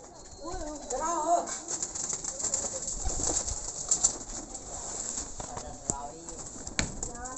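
Pigeons coo softly in a low, warbling murmur while people talk nearby, with occasional wing flutters and clatter in the background.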